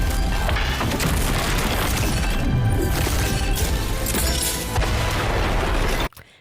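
Anime weapons from 86 fire in a dense, chaotic barrage of booms and metallic crashes, loud and continuous for about six seconds before cutting off abruptly.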